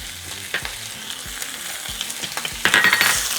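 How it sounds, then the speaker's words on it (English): Ground beef sautéing in a pan with minced garlic, cumin, garlic salt and black pepper, a steady close sizzle with scattered clinks and scrapes of a utensil stirring, louder toward the end. "we're going to saute for a couple minutes"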